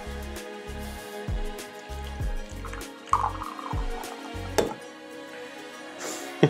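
Hot water is poured onto instant coffee in a cup, a run of irregular trickling and dripping splashes with quiet gaps, close and moderately loud with no talking.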